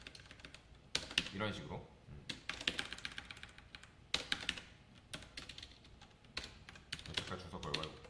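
Fast, close typing on a computer keyboard as code is entered, in steady bursts of clicking keys with brief pauses, while someone speaks over it.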